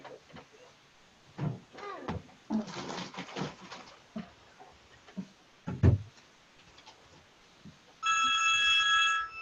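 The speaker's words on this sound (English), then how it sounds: "I'm sorry, you guys, that's our phone and I gotta answer it." An office telephone starts ringing at the end with a steady electronic trill, loud and close, after a stretch of knocks, clatter and muffled room sounds.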